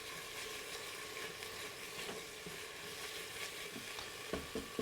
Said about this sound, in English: Mix them up, fry them for approximately 20 seconds to 30 seconds around there just to release the flavor.